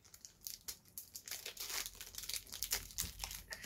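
Close crinkling and ripping of a trading card booster pack's foil wrapper, quick irregular bursts of tearing and crumpling, quiet and with no voices.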